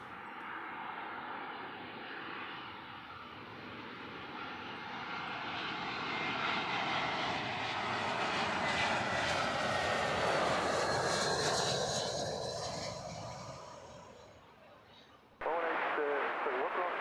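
An Airbus A380 jet airliner at Heathrow Airport roars past, its engine noise swelling to a broad, loud peak and then fading, while voices talk over it throughout.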